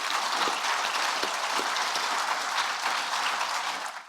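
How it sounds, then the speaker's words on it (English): Awards-ceremony audience applauding the three finalists at an environment awards event, a dense, continuous roar of many hands clapping at steady loudness, with a few sharper claps near the front before it fades at the end. "a huge round of applause for those three finalists"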